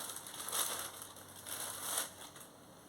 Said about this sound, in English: Let me unwrap them so you guys can see what they are.